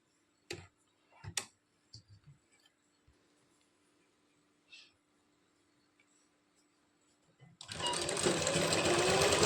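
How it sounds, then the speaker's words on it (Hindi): Sewing machine stitching a folded fabric strip for a belt blouse: a few soft clicks and taps, then the machine starts up and runs in a steady, loud, close whir to the end. "तो मैं सिलाई लगा लेती हूँ"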